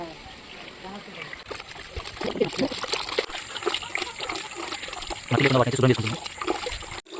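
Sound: washing mushrooms in water

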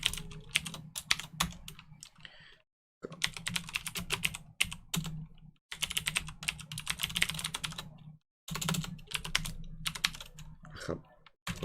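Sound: typing on a computer keyboard

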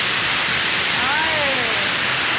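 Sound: heavy rain in Saigon

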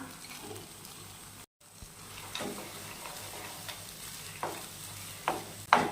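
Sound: roasted cashews and raisins stirred into red poha kesari

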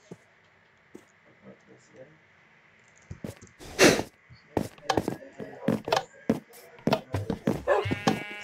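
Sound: sheep bleating in Minecraft video game

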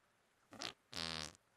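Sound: fart sound effects in a video game chat

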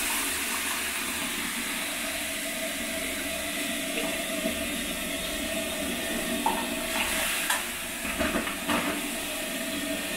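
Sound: water thrown on hot sauna stove stones, hissing steam

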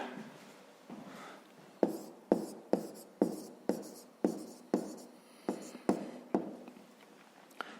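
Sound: writing on paper

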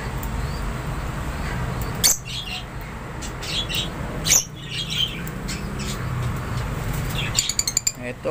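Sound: young pet bird squawking

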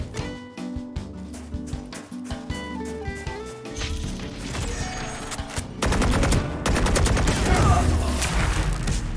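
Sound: gunfire in a video game

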